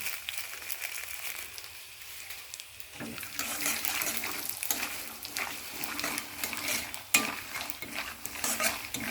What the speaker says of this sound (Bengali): দেখো পোস্ত আর বাদাম দিয়ে কলমি শাকটা ভাজবো